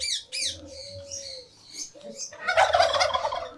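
A turkey gobbles close by among peacocks, ducks and chickens feeding from one pot on a cold misty morning, with short bursts of calls and rustling.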